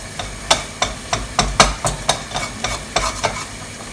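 A wooden spoon stirs a flour-based white sauce for vegetable lasagna in a pan: about a dozen brisk, rhythmic scraping strokes close up over a soft sizzle, with no talking.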